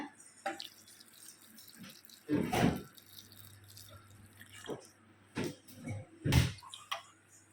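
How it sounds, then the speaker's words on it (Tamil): Hot water is poured over dried fish in a home kitchen, coming as several short splashing pours with dripping and a low hum between them and no talking. "இப்போ வந்து அந்த சுட தண்ணியை வந்து அந்த கருவாட்டில் ஊற்றிக்கலாம்"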